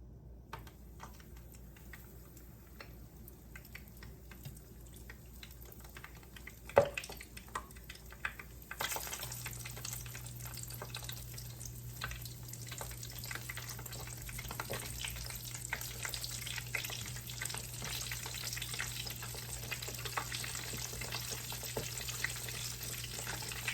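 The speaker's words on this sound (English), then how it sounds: "let's go ahead and start frying the chicken" Steady crackling sizzle of chicken tenders frying in hot oil, growing louder and denser partway through as more pieces go in, with occasional clatter.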